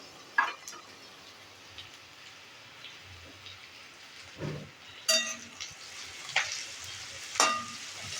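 Capsicum and cabbage being stir-fried in a pan, a quiet low sizzle broken by several sharp spatula scrapes and clinks against the pan, close and fairly soft with no talking.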